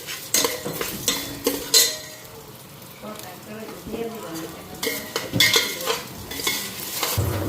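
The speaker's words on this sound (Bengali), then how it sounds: "এখানে ভালো করে ভাজা নিই মশলাটার লগে মুগ ডালটা" Moong dal being fried with spices in a pan, a loud close sizzle with repeated scraping and stirring clatter of a utensil against the pot, with faint voices in between.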